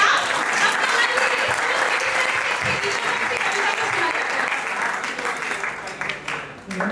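Steady, dense applause from an audience at a Hindi kavi sammelan poetry gathering, loud and sustained throughout, easing slightly near the end.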